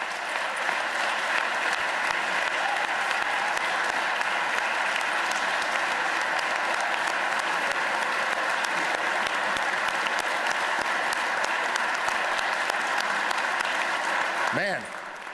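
Sustained, loud audience applause fills a legislative chamber during a governor's budget address, a dense unbroken clatter of clapping lasting the whole stretch before fading at the very end.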